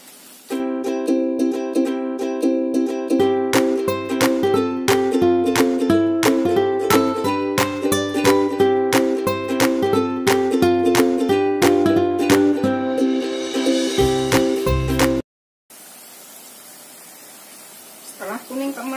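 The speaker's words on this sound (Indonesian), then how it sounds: "Goreng sampai kering." Breadcrumb-coated tempe deep-frying in oil, a soft hissing sizzle heard alone for a few seconds after a long stretch of rhythmic background music ends abruptly.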